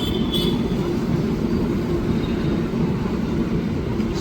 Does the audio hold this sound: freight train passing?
yes